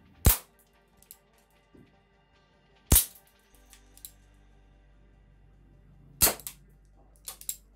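A King Arms Peacemaker SAA .45 toy revolver fires three sharp, loud cracks, spaced a few seconds apart, with faint handling clicks between them.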